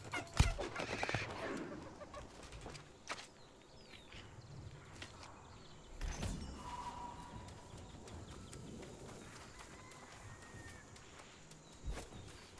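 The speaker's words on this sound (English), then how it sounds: "Did you guys hear that rooster?" A rooster crows at a distance over a busy New World game soundscape with footsteps, scattered clucking and occasional thumps.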